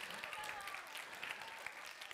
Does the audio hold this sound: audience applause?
yes